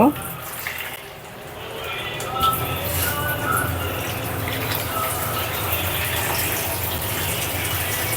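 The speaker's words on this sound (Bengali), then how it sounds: "আর অল্প একটু পানি দিব" Water gushes into a pot of vegetable curry with sponge gourd, okra and potato, a continuous loud pouring rush that holds steady for several seconds while someone talks over it.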